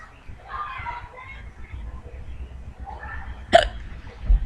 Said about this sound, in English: Hate having the hiccups.